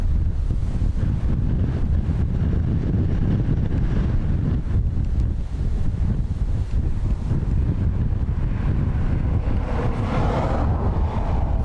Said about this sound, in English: the wind will get under the camera cover, lift the tripod